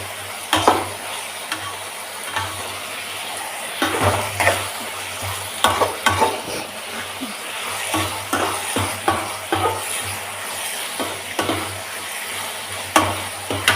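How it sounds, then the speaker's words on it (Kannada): Tomatoes fry in oil in a pan, a steady close sizzle broken by repeated scraping stirs and spoon knocks throughout. "ಟೊಮೊಟೊ ಎಲ್ಲ ಚೆನ್ನಾಗಿ ಫ್ರೈ ಆಗಬೇಕು."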